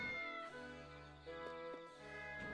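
A cat meows in the video game Triangle Strategy, a few tonal cries standing out over steady, sustained game music.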